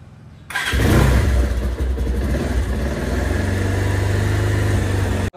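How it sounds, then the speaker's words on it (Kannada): A Bajaj Pulsar 220 motorcycle engine cranks and catches on a cold start, then settles into a loud, steady idle close by, with no talking. "ಇವಾಗ ತಾನೇ ಹೋಗಿ ನಮ್ಮ 220 ಬೈಕ್ ನ ಕೋಲ್ಡ್ ಸ್ಟಾರ್ಟಿಗೆ ಇಟ್ಟಿದ್ದೀನಿ"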